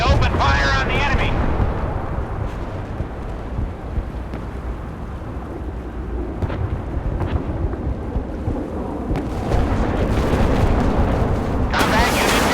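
Warship guns open fire in the naval combat video game Force of Warships, heavy booming blasts and rumbling explosions layered over a continuous roar, with voice callouts from the game heard over the battle.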